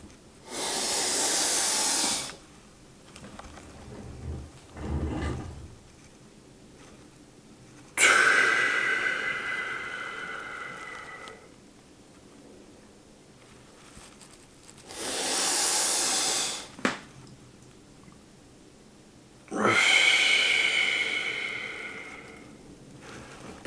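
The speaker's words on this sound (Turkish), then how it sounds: "Gördüğünüz gibi nefes tam olarak alınıyor." Heavy, forceful breathing paced to slow weight-training repetitions: four long, hissing breaths, close to the mic, separated by quiet pauses.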